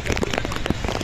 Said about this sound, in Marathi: पाऊस असा जोरात चालू झालेला आहे बघू शकता तुम्ही